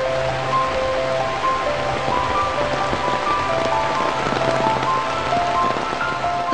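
Monsoon rain falls across the Western Ghats forest of North Kerala in a steady, even hiss, with faint tonal calls threaded through the downpour.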